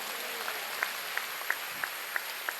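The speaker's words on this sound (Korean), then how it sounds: "깨달은 사람만 박수 치라고요" During a church sermon, sparse claps sound from the congregation: about seven faint, evenly spaced hand claps over a steady background hiss, like a single person or a few people clapping at a distance.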